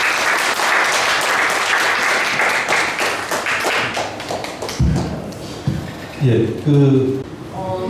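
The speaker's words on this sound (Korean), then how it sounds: "큰 박수 부탁드립니다" An audience at a lecture on peace and reunification claps loudly to welcome the lecturer, a dense burst that fades after several seconds before a voice begins speaking.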